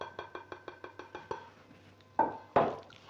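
Spoon or ladle clinks repeatedly against a bowl while chicken legs are mixed with chaat masala, salt and spices, a steady series of about eight taps followed by two louder scraping knocks.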